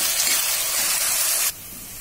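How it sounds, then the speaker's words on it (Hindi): Two large, finely chopped onions sizzle in a hot pan. The frying makes a loud, steady hiss that drops to a softer sizzle near the end. "और हम अपनी प्याज को अच्छे से भून लेंगे"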